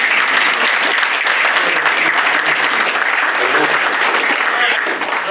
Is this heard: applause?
yes